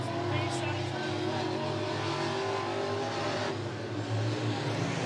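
Late model race cars at Monett Motor Speedway roar steadily at close range, a dense, continuous engine drone with rising revs throughout, and a commentator's voice talks over the noise.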